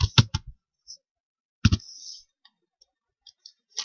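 A few keystrokes on a computer keyboard while typing code: short sharp clicks in small bursts with long silent gaps between, close and clear, no voices.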